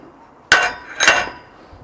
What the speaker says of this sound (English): It'll need taking off and putting on the anvil so I can hit it